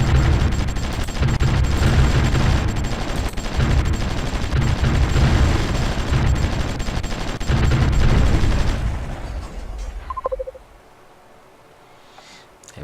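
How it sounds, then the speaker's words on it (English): In the strategy game Supreme Ruler Ultimate, artillery fires on a garrison as a dense, continuous barrage of booms and shots, loud and sustained, before it drops away to near quiet with a couple of short tones. "Why has my artillery gone in range of their garrison?"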